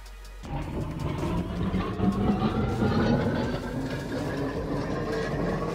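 Tram running in the Roblox game The Steam Era, a steady rolling rumble with low motor hum and faint rail clatter, continuous and fairly loud throughout without any talk.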